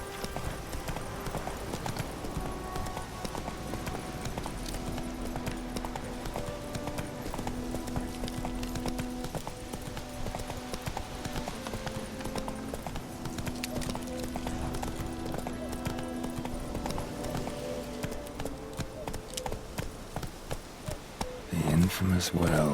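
A horse gallops in The Witcher 3: Wild Hunt, rhythmic hoofbeats pounding steadily for the whole stretch beneath game music, with a brief clatter near the end.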